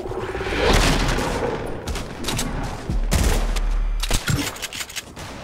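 Shotgun gunfire in a Fortnite or Apex match, a loud game mix of repeated blasts and booms with heavy low rumble, several sharp shots toward the end, with no talking over it.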